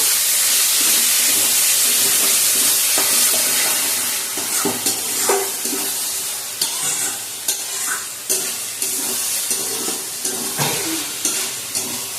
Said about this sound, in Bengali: এখন এটা একটু আবার নেড়ে দেওয়া হচ্ছে।